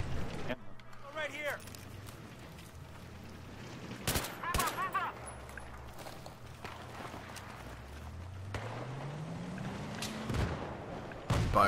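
Bursts of gunfire in the video game Battlefield 3 come as sharp cracks and short volleys, mixed with a voice talking throughout and some movement sounds in the background.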